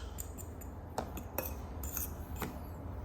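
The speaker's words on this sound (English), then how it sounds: "Then you're just whisking together all your dry ingredients." Whisking dry ingredients for a pie crust in a bowl gives a quiet series of light metallic clinks and taps at an uneven rhythm, close by, with no talking.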